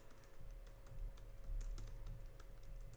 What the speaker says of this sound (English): You type in your name, your main headline text here.